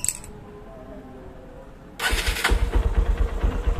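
A Honda Mega Pro motorcycle engine with its carburetor being serviced catches on the electric starter: a quiet lull, then it fires and settles into a loud, close, pulsing idle.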